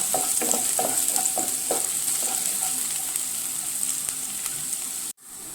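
Ginger, garlic and green chilli fry in a pan while being stirred, a loud steady sizzle with quick spoon scrapes early on, then smoother frying until it cuts off abruptly near the end.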